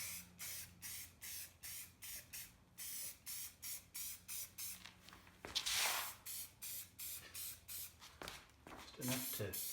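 A second thin coat of spray paint goes onto a metal lantern fount in a steady train of short hissing bursts, each lasting about a second with brief gaps, fairly quiet and close.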